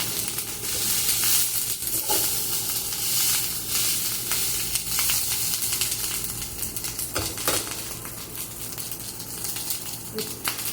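Garlic fries loudly in a pan with a dense, steady sizzle, while a utensil scrapes and clinks against the metal now and then, and a voice speaks faintly underneath.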